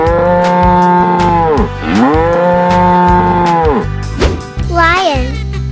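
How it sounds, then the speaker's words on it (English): A cartoon cow in a kids' animal painting video game lets out two long, loud, drawn-out moos, followed by a shorter, higher bovine call, over a bouncy game music backing. "Cow."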